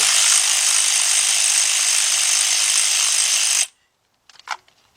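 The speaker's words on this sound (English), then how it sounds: "So I'm using that instead of a regular ratchet, and I'm using a 10mm deep 3/8 drive socket." A powered ratchet tool with a 10mm deep 3/8 drive socket backs out an ignition coil bolt: a loud, steady motor whir for several seconds that cuts off abruptly, followed by a few faint clicks.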